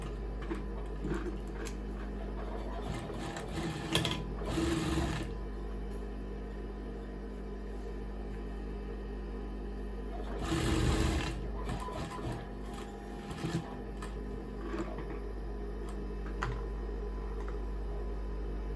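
A sewing machine stitches a label onto cloth, running steadily with a close, fast mechanical whir and rhythmic ticking, louder in two short bursts.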